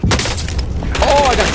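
Sniper gunfire in Call of Duty Warzone, loud close blasts with a sharp crack and rumbling tail, followed by a brief voice-like tone.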